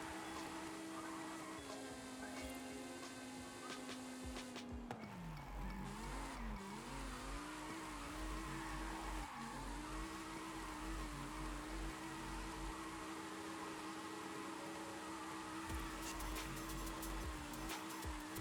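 A Toyota Chaser GT drifts in Forza Horizon 5, its engine droning and revving through gear changes while tires squeal and skid in long slides, loud and continuous with no voices.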